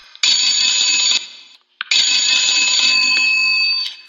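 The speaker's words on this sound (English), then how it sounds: "Hattie cranks her phone to summon the phone operator to share the latest news" An old hand-cranked telephone rings to summon the operator: two loud, bright, sustained bell rings separated by a brief pause, close and alone.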